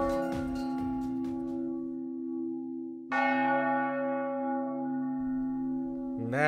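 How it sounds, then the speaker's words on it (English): A school chime from a visual novel video game rings out in long, resonant tones, with a fresh strike midway and another at the end, each sustaining loudly. "Then the bell rings."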